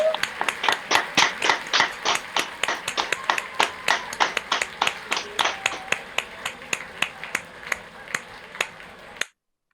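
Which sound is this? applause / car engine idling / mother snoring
applause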